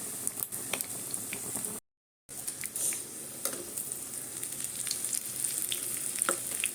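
Fish roe frying in a pan, a close, steady crackling sizzle with small pops and wet squishes, cut by a short moment of silence before the frying resumes.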